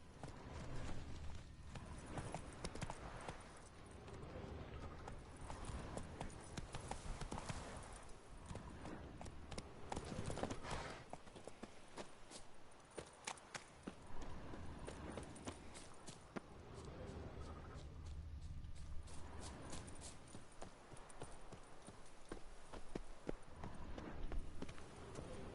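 Roach, the horse in The Witcher 3, running in-game, with a steady rhythmic clip-clop of hooves continuing throughout under game ambience and music.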